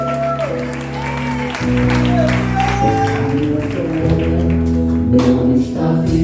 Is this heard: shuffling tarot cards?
no